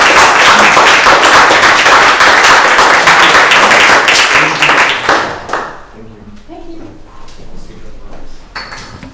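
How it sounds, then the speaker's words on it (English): An audience at a talk in a metal works space claps for a speaker. The applause is loud and sustained for about five seconds, then drops off into scattered claps, quiet murmuring and small knocks. "let's have another round of applause for Joe."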